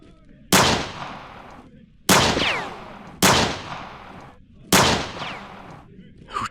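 Four loud, sharp gunshots from a Metal Gear Solid radio drama ring out about a second and a half apart, each cracking hard and trailing off in a long echoing decay.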